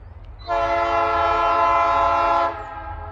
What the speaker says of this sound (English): This is a heavy train